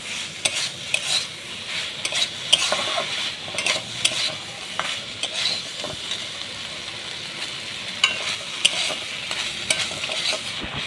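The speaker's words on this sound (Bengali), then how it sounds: "ভালো করে সবগুলো মশলার সঙ্গে আলু সয়াবিনগুলোকে কষিয়ে নেব লাল লাল করে।" Potatoes and soybean chunks fry with chili and turmeric, spoon scraping and clacking against the pan over a continuous sizzling hiss, close up and busy for several seconds with no voices.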